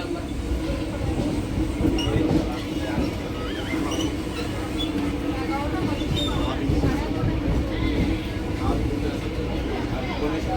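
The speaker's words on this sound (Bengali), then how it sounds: "গঙ্গায় ঢুকছে ট্রেন" A train pulls into a station on the Barasat–Bangaon line in West Bengal, with a loud, continuous low rumble and rattle of wagons. Faint chatter from people nearby mixes in throughout.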